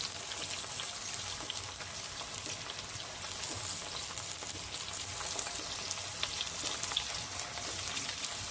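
Onion, ginger, garlic and tomato fry in a pan with a dense, steady sizzle and crackle, heard close and moderately loud throughout with no voices.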